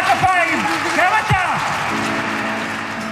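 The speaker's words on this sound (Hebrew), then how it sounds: "גם אתה תמחא כפיים!" A crowd applauds during an evening event, steady loud clapping running throughout with a voice and other voices talking over it.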